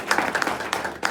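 Brief burst of audience clapping at a community forum on homelessness and affordable housing, scattered hand claps over about a second, moderately close, with no talk.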